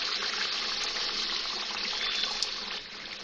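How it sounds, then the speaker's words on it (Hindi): Quarter cup of water poured into chicken korma karahi in a pan, a continuous close gushing splash with a brief bubbling sizzle, no voices. "1/4 कप मैंने पानी डाला है"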